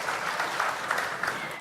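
A warm round of applause from an audience welcoming Supreme Master Ching Hai, a steady wash of many clapping hands at moderate level, even and continuous throughout.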